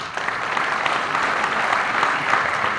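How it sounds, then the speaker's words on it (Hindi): Sustained applause from an audience filling an auditorium at a job fair inauguration, steady clapping throughout with no pauses. "इनके लिए भी जोरदार ताली बजाएं।"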